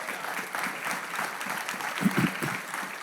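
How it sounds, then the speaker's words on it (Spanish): Congregation in a church service applauding together, a steady sustained patter of many hands clapping across the room with no pauses. "Dele un aplauso a Él."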